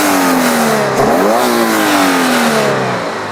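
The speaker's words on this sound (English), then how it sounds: "let's hear some revs" A flat-four car engine revs up sharply, dips, then climbs again and holds a high, raspy whine before easing off, loud and close.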